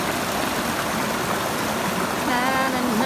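Cold river water at Mahaba Tugnaw River rushes in a steady broadband roar, close and continuous, with a faint voice briefly audible over it near the end.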